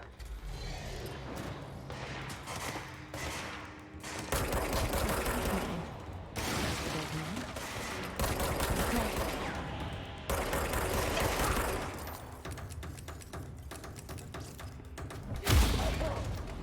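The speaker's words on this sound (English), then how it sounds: "why are they shooting at me?" Enemy gunfire rattles in the Control video game, with long stretches of rapid mechanical firing and heavy thuds separated by brief pauses, fairly loud and steady across the scene.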